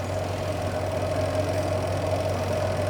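A washing machine drum spins at 150 RPM, making a steady, close mechanical hum with a low drone that holds unchanged throughout.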